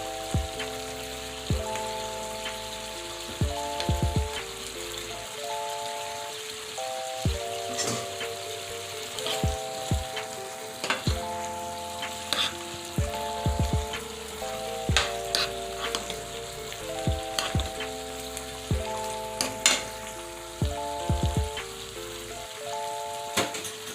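Docta fish frying in a pan, a continuous crackling sizzle with sharp pops and utensil taps, under steady background music with no talk.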